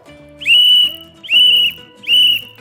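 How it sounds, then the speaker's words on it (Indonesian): Three shrill whistle blasts, each held for about half a second with short pauses between, loud and close. "Bunyi peluit tadi sudah Ibu peragakan."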